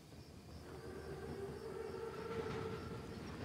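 An armored Panzerzug train approaches in a Call of Duty WWII mission, a steady rumbling rail roar with a sustained tonal whine building gradually and staying loud throughout, with no talk.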